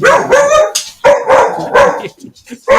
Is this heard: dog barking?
yes